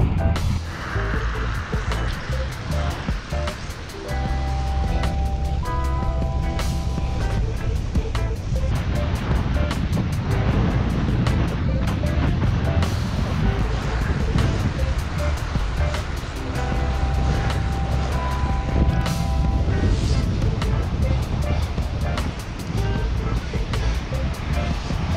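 Strong headwind roaring into the microphone while riding a RIDE1UP Roadster V2 e-bike on the road, a loud continuous rushing that stays steady throughout, with a voice talking underneath.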